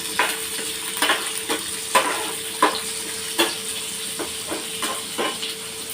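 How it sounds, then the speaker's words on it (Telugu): Onion fries in hot oil in a pan while cooking ulavacharu, a steady close sizzle and hiss punctuated by regular stirring scrapes and taps, with no talking. "అలాగే ఇవి వేగేటప్పుడే ఆనియన్ వేసి కొంచెం కలర్ మారేంత వరకు వేయించుకుందాం"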